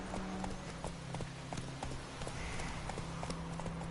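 Roach the horse gallops in The Witcher 3, a steady rhythmic clip-clop of hooves running through the whole stretch over a low game soundscape, fairly quiet and even.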